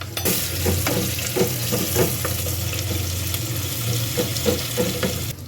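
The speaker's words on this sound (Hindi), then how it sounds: "अब जी मैं अदरक लहसुन का पेस्ट डाल रहा हूँ।" Ginger garlic paste sizzles and fries in a pan with scraping stir sounds, steady and close, with clicks of a utensil against the pan throughout.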